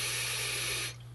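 A Kanger K-Kiss e-cigarette with its stock coil hisses softly as a slightly restricted lung hit is drawn through it, a faint, airy rush that cuts off abruptly after about a second.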